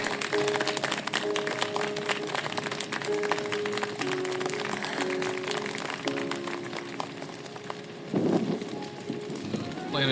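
A crowd applauds in Final Fantasy VII Rebirth at Red XIII's homecoming, a dense, even patter of many hands clapping at moderate distance, holding steady for about ten seconds with a brief low thump near the end.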